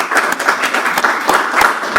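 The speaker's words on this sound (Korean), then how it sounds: "우리 같이 박수로." A burst of applause rings out for a company chairman's birthday, a brief round of many hands clapping together, close and lively, with a few voices mixed in.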